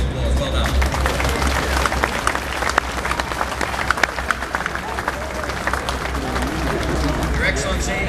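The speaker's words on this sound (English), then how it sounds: "I think you should give yourself a great round of applause" Loud crowd applause and clapping at a State Emergency Service anniversary parade in Sydney, sustained and dense throughout with crowd chatter and voices mixed in.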